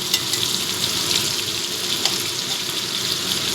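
Large shrimp fry briefly in a pan for pui pituli, giving a bright, continuous sizzle up close with faint clicks of stirring.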